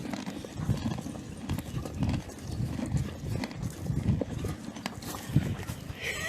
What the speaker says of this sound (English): Can you guys hear them crunching?